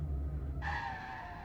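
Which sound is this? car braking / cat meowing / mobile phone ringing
car braking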